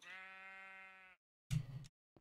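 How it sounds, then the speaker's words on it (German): A Minecraft sheep gives a single clear, drawn-out bleat, close and alone, then a short burst of noise and a tiny click follow after a brief silence. "Was mit dem Schaf los? Was für ein Schaf?"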